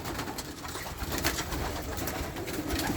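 Pigeons at a newly assembled pigeon loft coo softly against a busy, rustling outdoor background, the calls blending into a steady murmur of birds.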